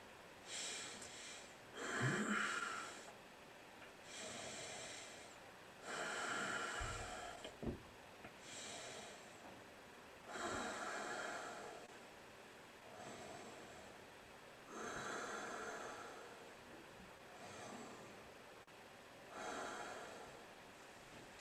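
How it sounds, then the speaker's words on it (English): Slow, heavy Ujjayi yoga breaths drawn and released through a constricted throat, a raspy hiss repeating in a steady rhythm about every two to three seconds, close and quiet. "Ujjayi breathing is heavy breathing with a squeezed throat."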